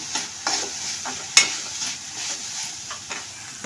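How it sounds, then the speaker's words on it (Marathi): Veg momo filling of vegetables with soy sauce and a pinch of black pepper being stirred in a pan, with scraping stirs and a soft steady sizzle, plus a few sharper utensil knocks. "आता हे परतवून घेऊया"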